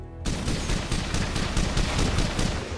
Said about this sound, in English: comes this blast of powerful gunfire